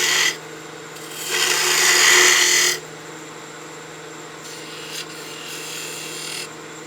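A spindle gouge cuts a half bead into wood spinning on a lathe: a bright scraping hiss swells for a couple of seconds over the steady hum of the running machine, which continues on its own afterward.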